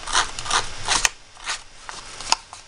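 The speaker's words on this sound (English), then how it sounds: "so I'm going to use my sanding block" Repeated rough scraping strokes, a sanding block rubbed back and forth along card edges in short bursts with brief pauses and a couple of small clicks.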